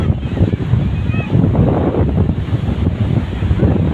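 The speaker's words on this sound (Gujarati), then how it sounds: "આ આપણે દરિયાનો કિનારો છે, તમે જોઈ શકો છો મિત્ર." Sea waves washing onto a seashore with strong wind buffeting the microphone, a loud, continuous roar of surf and gusts throughout.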